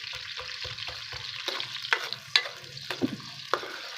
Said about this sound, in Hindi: इतना का हमने फ्राई करना है तकरीबन 1 या 2 मिनट के लिए, ताकि जो प्याज का कच्चापन है वो ख़त्म हो जाए इसके अंदर से